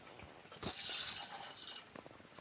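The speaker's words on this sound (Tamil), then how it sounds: "எண்ணெய் விட்டு தேவையான அளவு தண்ணி ஊற்றிக்கோங்கண்ணே" Water splashes and pours into a cooking pot for chicken curry in a short, close burst, trickling off with a few drips.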